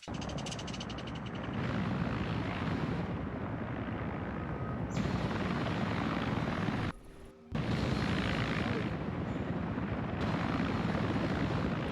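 Helicopter engine in the military game Arma 3, a loud continuous rotor and turbine roar with steady thumping, holding at close range with a brief dip in the middle before resuming at full strength.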